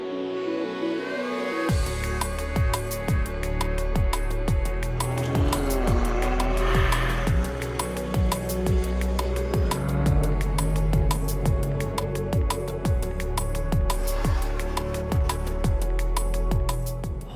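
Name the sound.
Bugatti Chiron and other cars driving along a road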